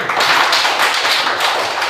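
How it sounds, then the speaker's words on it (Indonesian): Students in a grade 4 religion class clap for a classmate named Tiko, a dense, steady patter of many hands at close range that holds evenly throughout, with no talking over it. "tepuk tangan buat Tiko"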